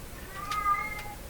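A single drawn-out cat meow, moderately close, rises briefly over a low background hum, part of pet cats calling to each other indoors.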